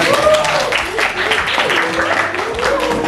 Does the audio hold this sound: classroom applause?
yes